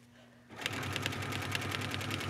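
Sewing machine with an open toe foot stitching leather quilted to fleece; after a quiet start the motor kicks in and runs in a fast, steady, close rhythmic patter.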